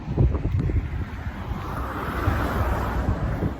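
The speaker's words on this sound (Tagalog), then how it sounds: "Mahangin dito guys." Gusty wind buffets the microphone with low rumbling bursts, steady and close throughout.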